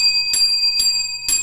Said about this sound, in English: It's the bell. It's the weather bell.